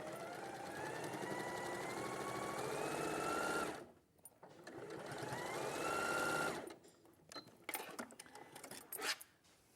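Sewing machine stitching a quarter-inch seam allowance, running in two close, steady bursts with a rising whir, then stopping for a few soft clicks and handling noises.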